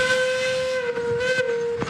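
A loud, sustained steam whistle from an antique steam hauler, over 100 years old, blows steadily with a hissing edge at Wabeno's Steam Up Days, its tone holding for the full duration with slight fluctuations.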